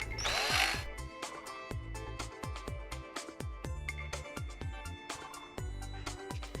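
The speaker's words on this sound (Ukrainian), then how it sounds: "так і сверлимо" A power drill bores a hole in a drip irrigation pipe, its bit slightly smaller than the self-tapping screws. Close whirring comes in regular short pulses with a rhythmic, repeating rise and fall, and no speech.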